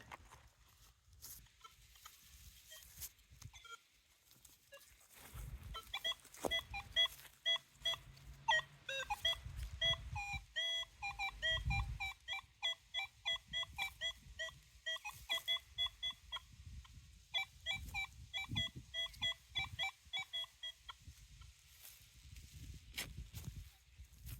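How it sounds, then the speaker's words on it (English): A metal detector sweeping over buried melted aluminum near a Civil War era cabin, giving rapid repeated beeping tones in bursts over a low rumble of handling and wind, with a quiet stretch before the signal starts. "Let me get the detector back over it and see if that was what we were hearing."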